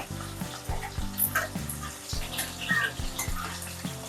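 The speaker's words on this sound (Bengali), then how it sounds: "লবণ দিয়ে আমি এটাকে ঢাকা দিয়ে দেবো, ঢাকা দিয়ে ভেজে নেব" Salted potatoes fry in a covered pan, giving a steady, crackling sizzle with soft pops throughout, heard alongside a low tonal background.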